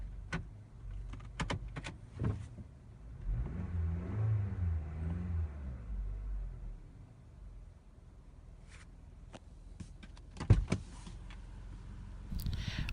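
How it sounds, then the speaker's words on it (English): A 2017 Toyota Camry engine idles steadily after starting with a key, a low rumble running throughout with a few sharp clicks and knocks from handling inside the car. "The engine continues to work."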